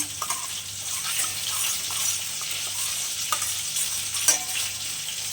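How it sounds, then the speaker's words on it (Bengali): A spoon stirs Schezwan sauce in a pan while preparing chicken lollipop, giving a steady wet scraping and swishing with faint sizzle, continuous and close, with no talk. "পুরো সসটাকে আমি একটু ঘেটে নেব চামচের মাধ্যমে।"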